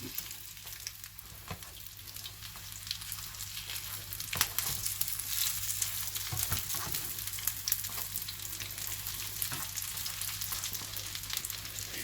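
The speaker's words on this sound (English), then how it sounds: "They're frying away nicely." Potato cutlets frying in a pan with oil: steady crackling and sizzling, continuous and close, with occasional soft clinks.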